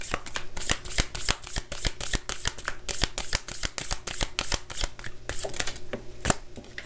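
A deck of tarot cards is shuffled close up, a fast run of crisp riffling flicks and slaps repeating in quick rhythm for several seconds.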